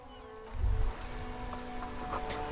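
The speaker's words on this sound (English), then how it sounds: "This rain will not let up anytime soon." Steady rain falling in the game Disco Elysium, a continuous soft patter with a brief low rumble near the start and a faint tonal ambient hum beneath.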